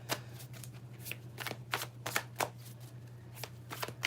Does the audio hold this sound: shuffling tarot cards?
yes